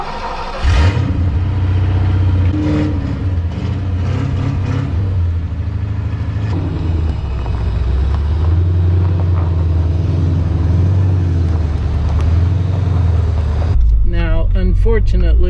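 Chevy Silverado truck rolling along a rough dirt road on a nice day, with a steady low engine rumble and road noise filling the whole stretch, loud and close.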